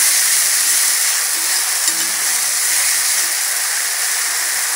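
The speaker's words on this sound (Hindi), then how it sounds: "अब जो हमने मसाले का पेस्ट तैयार किया है उसको इसमें डाल देंगे।" Masala paste and spices frying with onions in a pan for a cabbage dish, a steady, close sizzling hiss throughout with faint stirring scrapes and no talk.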